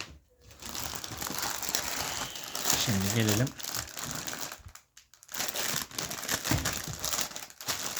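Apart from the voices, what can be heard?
plastic bag being opened by hand without scissors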